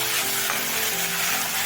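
Onion, ginger-garlic and red chili sauce sauté and stir in a hot pan for Cauliflower Manchurian, giving a steady close sizzle and frying crackle with scraping stirs throughout, and no talk.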